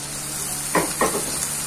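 Frying onion and garlic in oil keep a steady background hiss, with two short bursts of sizzle as a large frozen tomato drops in and is moved around.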